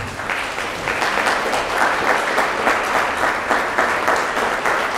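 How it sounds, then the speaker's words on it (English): A church congregation applauds during a Sabbath service, steady dense clapping filling the room at even volume throughout, close and sustained. "Give the Lord a round of applause."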